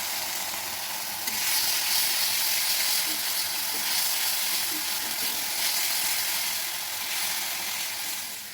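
Ground spice paste sizzles loudly in hot oil with cumin and turmeric, a steady close frying hiss that swells as the paste goes in and carries on without talk.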